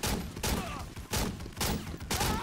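Rifle gunfire from the video game Medal of Honor cracks out in four heavy, evenly spaced booming shots, each loud and close with a short ringing tail.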